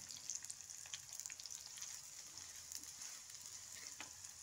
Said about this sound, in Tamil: இப்போ எல்லாமே நல்லா எண்ணெயில் வதங்கணும். ஒரு ரெண்டு நிமிஷம் வதங்கட்டும்.